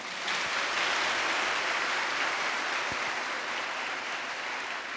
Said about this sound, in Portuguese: Vamos aplaudir nosso Papa.